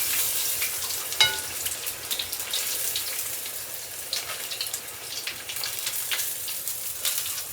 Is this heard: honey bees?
no